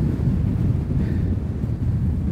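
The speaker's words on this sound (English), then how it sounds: "it is unbelievably windy." Strong storm wind at the seaside in Southend-on-Sea buffets the microphone with a continuous loud, low roar, with the sea audible beneath the gusts.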